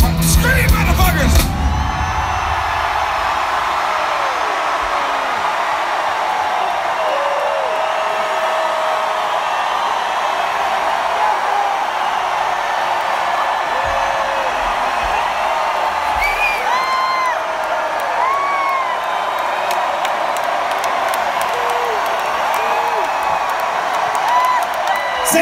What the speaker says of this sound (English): You ready to scream? Are you ready to scream?